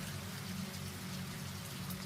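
Steady rain falling outdoors on an evening around a property with animal shelters, a constant dense patter with no voices, even and moderately soft throughout.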